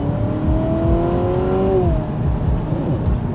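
A 2025 Honda Civic Hybrid engine in sport mode, heard from inside the car, rises in a smooth climbing whine as it accelerates, eases off after about two seconds, and is followed by steady road noise.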